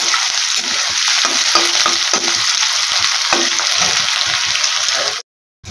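Onions frying in oil until light brown produce a loud, close, continuous sizzle broken by rhythmic stirring scrapes, then a sudden brief silence just before the end.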